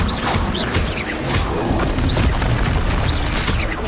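Fire spell blasts and booming impacts from Hogwarts Legacy, loud dense bursts repeating over a busy game soundscape with brief chirpy magical flourishes, no talk.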